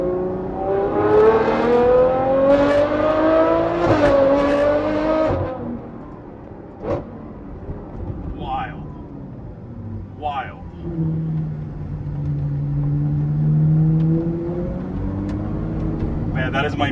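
Ferrari 812 with a V12 engine revving hard, loud rising pulls that swell then cut off, followed by quieter idling and faint echoes, with someone speaking briefly.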